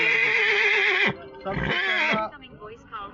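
A Lachh breed horse bought at the Balotra fair in Rajasthan neighs loudly and up close in a long, wavering whinny, then gives a second shorter call that fades into softer snorts.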